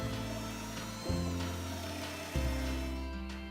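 A power drill bores pocket holes in wood through a jig, giving a close, steady motor whine that dips and rises in speed twice.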